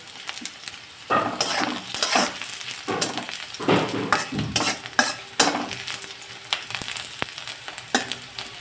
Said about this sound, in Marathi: थोडासा कांदा आणि मुळा भाजून घेतलाय